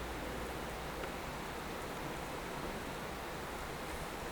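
Steady rain falls with a constant, even hiss that fills the background at moderate loudness, with no voices or other sounds over it.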